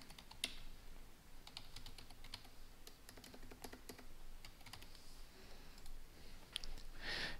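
Keys clatter steadily on a computer keyboard while a Word document is being renamed, with irregular bursts of sharp clicks over several seconds, fairly quiet and close, and no talking.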